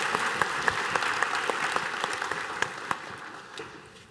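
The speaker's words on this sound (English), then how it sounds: "So a round of applause for our guests before we start." Conference audience at an Irish internet-day panel applauding its guests, a steady, moderately loud patter of many hands that fades toward the end, with no speech over it.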